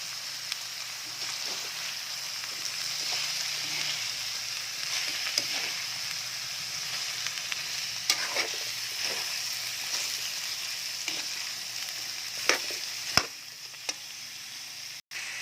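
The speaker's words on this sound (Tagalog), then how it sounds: "Lagay na natin yung ating papaya. At haluin natin yun guys." Green papaya frying with ground meat in a pan for a coconut-milk stew, a steady close sizzle running throughout with scattered light scrapes and taps of a spoon stirring, ending on a sharp knock.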